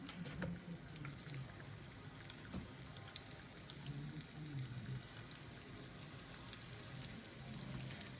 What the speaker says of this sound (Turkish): arkalı önünü kızartacağız.